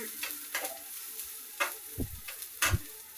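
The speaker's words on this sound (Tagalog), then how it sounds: "Isunod natin po yung sibuyas. Halo-haloin na po natin. Halo-haloin ng konti o bahagya." Garlic and onion fry in a pan while a utensil stirs them in a few scraping strokes over a soft, steady sizzle, close and moderately quiet.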